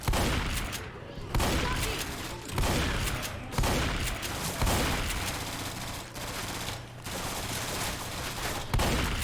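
Gunfire in Left 4 Dead 2 played with mods: dense, loud bursts of rapid shots, repeated in several volleys with brief gaps between them, filling the whole stretch.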